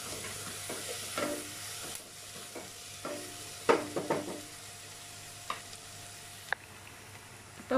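Onions fry in oil in a pan for Madurai-style beef biryani. A low, quiet sizzle runs throughout, broken by sharp clinks and scrapes of a spoon stirring, with no speech.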